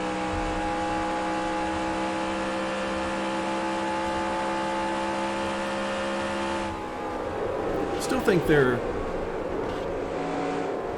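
Simulated NASCAR Next Gen race car from NASCAR Racing 2003 at Kansas, a steady high engine drone with sustained harmonic whine, running under continuous commentary that briefly swells with a short burst of talk near the end.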